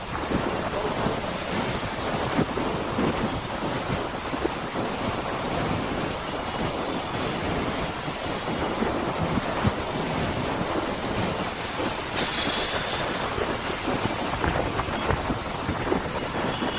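Dense, steady roar of heavy rain pouring down in Baner-Balewadi, Pune, constant and enveloping with no speech.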